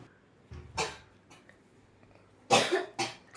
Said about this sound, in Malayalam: എനിക്ക് ഭയങ്കര ചുമയുണ്ട്.